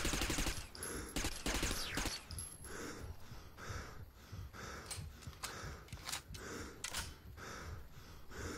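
Gunfire from the sci-fi shooter Interstellar Marines, rapid repeated bursts of shots in uneven clusters, steady and fairly close, with no talking.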